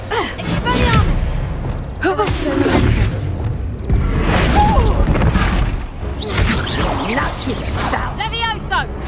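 Expelliarmus spells in Hogwarts Legacy fire amid combat as a rapid string of loud whooshes, booms and impact crashes. Chirping magical effects and a speaking voice run through the fight.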